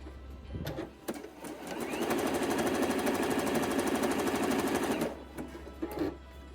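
A sewing machine runs one sustained, close, rapid-stitching burst of about three seconds along a swimsuit top's seam, framed by brief fabric handling and bumps before and after.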